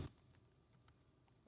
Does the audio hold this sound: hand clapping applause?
no